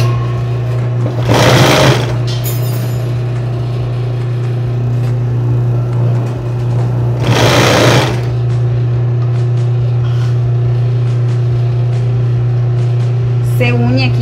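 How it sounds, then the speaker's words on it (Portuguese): An overlock serger stitches along the edge of a cloth mouth-wiping napkin, a steady loud whirring hum that runs close and continuous, with brief bursts of sharper rattling as the fabric feeds through. "eu vou passar aqui no overlock, né? Aqui a beiradinha"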